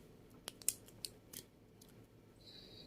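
Scissors snip double-sided tape in a quiet room: a handful of sharp, close clicks and crisp cuts spaced irregularly across a few seconds, followed by a faint tearing sound near the end.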